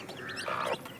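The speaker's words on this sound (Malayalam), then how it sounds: "അപ്പോൾ നമ്മളെ കോഴിക്കുഞ്ഞുങ്ങൾ ഇതാ" Brief soft clucking and chirping of hens and chicks, fairly quiet and close, over a low background hum.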